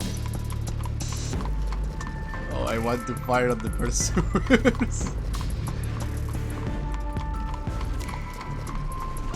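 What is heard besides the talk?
horse-drawn carriage hooves galloping in video game Fallen London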